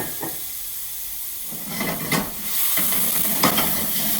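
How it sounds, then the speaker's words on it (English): White wine deglazes a hot pan after cooking chicken, setting off a steady sizzle that swells after a quieter start, with a few sharper hissing bursts as the pan is stirred. "you're going to deglaze the pan with a little bit of white wine"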